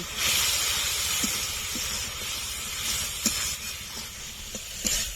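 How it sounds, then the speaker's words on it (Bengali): Spices sautéing in oil with turmeric and salt give off a continuous soft hiss, like steam, with a few faint clicks and taps now and then. "স্বাদ মতো লবণ এক চামচের কম হলুদ গুঁড়ো এরা ভালো করে কষে নেব"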